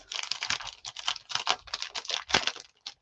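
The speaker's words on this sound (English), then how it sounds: "Sorry for the crinkling, but I just wanted to open this." Packaging is torn open up close, giving a quick run of dense, crackly crinkling that continues throughout with no voices.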